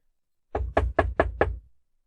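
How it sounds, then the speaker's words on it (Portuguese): Five quick, firm knocks on a door in an even rhythm, close and loud, followed by silence. "A senhorita Monsen bateu na porta."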